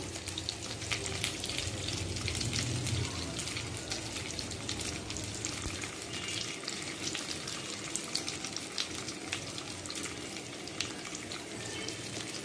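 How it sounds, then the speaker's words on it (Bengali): Raw green mango pieces, seasoned with turmeric, salt and sugar, stir-fry in a hot pan with a steady close sizzle and scraping stir sounds, broad hiss throughout with no talking. "এখন আমগুলো এভাবে দুই মিনিট নাড়তে থাকবো"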